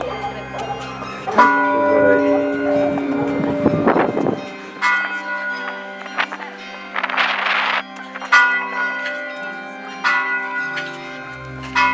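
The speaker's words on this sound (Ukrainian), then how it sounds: "А у неділю після сніданку ми йдемо дзвонити у дзвони" Church bells rung by hand with pulled ropes: loud, resonant strikes recurring in uneven bursts, each tolling tone ringing out and overlapping the next, with brief quieter gaps between clusters of peals.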